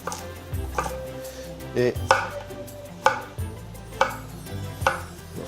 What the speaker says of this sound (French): on va simplement couper un petit peu de légumes.